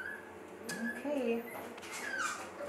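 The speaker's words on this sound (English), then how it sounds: "we got some playful puppies in the background here" Playful Petite Bernedoodle puppies whimper and yip in high, wavering cries in the background, with a person talking nearby.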